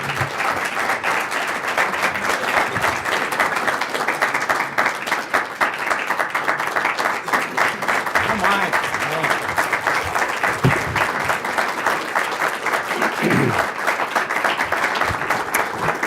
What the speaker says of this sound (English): Would you please join me in applauding our speaker today